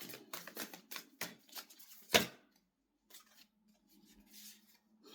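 Playing cards are shuffled and drawn in a quick run of crisp, close flicking snaps, then a single sharper slap of a card, followed by faint rustling. The sounds are quiet and carry no talk.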